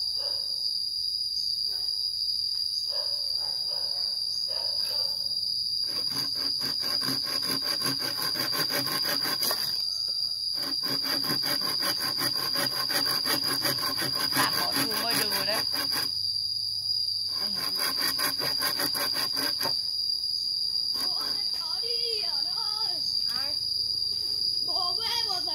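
Handsaw cutting through wood in a forest, bursts of rapid rasping strokes separated by pauses, with insects chirping and a constant high whine in the background.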